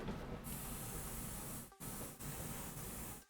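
An airbrush blows a steady loud hiss of air over freshly painted model tank weathering, running continuously with one brief cutoff and restart partway through, close to the listener.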